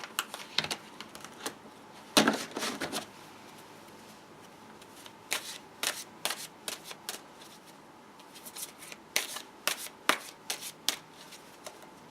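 A Chrysalis Tarot card deck is shuffled in quick, crisp bursts of riffling and slapping cards, close and clear, with short pauses between rounds.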